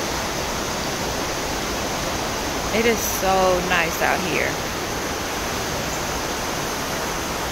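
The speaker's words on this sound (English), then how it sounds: "This is the waterfall." Constant broadband rush of a waterfall on Mill Road in Roswell, Georgia fills the scene evenly and loudly, with a person speaking briefly over the roar midway.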